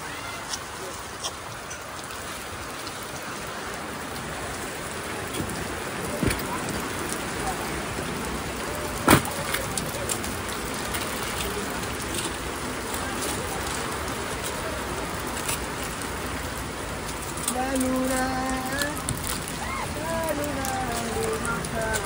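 Steady rain falls outdoors in a dense, constant patter on surfaces, heavy and close for the whole stretch, with a brief sharper knock midway and faint bird calls near the end.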